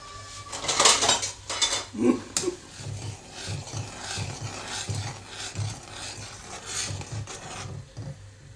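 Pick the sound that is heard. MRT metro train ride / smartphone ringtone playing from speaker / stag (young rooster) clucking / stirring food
stirring food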